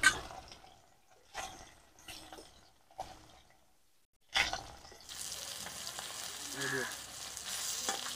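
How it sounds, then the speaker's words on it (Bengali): Pieces of fish, shankar fish, fried in mustard oil in a kadai over lowered heat. A few faint clattering stirs come first, then a loud burst as the fish hits the oil, settling into a steady, close, hissing sizzle. "তেলের মধ্যে মাছগুলোকে লাল করে ভেজে নেব।"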